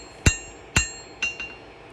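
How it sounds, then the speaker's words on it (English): A blacksmith's hammer strikes high carbon steel on an anvil during free forging of a knife, giving four sharp ringing metallic blows spaced about half a second apart, the last two lighter and close together. "pinching the steel between the hammer and the anvil, and just shoving the steel down where I want it to go"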